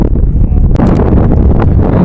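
Strong, cold wind in Taichung buffets the microphone in a steady low roar, with brief rustling bursts, loud and continuous throughout.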